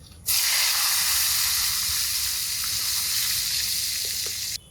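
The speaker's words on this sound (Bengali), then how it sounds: "বেগুনের পিসগুলো দিয়ে দিই" Eggplant pieces drop into hot mustard oil in a wok and burst into a loud, close, continuous sizzle that starts abruptly and holds steady for over four seconds before stopping.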